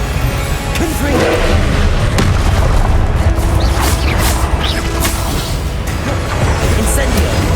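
Confringo blasting spell detonations in Hogwarts Legacy battle, loud heavy booms and crashing mechanical clatter merging into a sustained, dense roar of combat effects.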